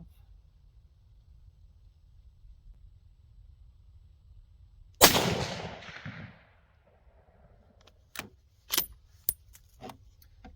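A single sharp .308 Winchester rifle shot firing a 149 grain full metal jacket round cracks out loud and close, then decays briefly, followed by several light metallic clicks and clinks from the rifle's action.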